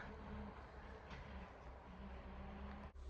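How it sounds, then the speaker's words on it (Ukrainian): A tractor passes nearby on a forest road, its engine rumbling steadily with a low mechanical drone, holding constant and loud throughout, no voices. "Порушив тишу нам трактор."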